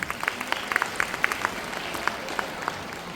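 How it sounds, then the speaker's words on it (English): A crowd of school students claps for their teachers during a chief guest's address at a school event. The applause comes as a steady, moderately faint patter of many hands. "So a big round of applause to your teachers,"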